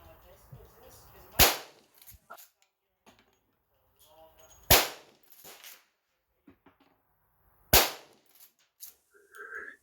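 Rossi 92 lever-action rifle fired outdoors: three loud, sharp reports spaced a few seconds apart, each followed by the metallic clack of the lever being cycled, with faint background noise between shots.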